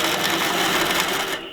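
Longarm quilting machine stitching binding onto a quilt, a rapid steady mechanical chatter of needle strokes running continuously before dropping away at the end.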